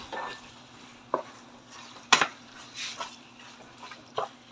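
Bicol express sautéing in a pan, a steady soft sizzle with a few sharp scrapes and clinks of the stirring utensil against the pan, no talk.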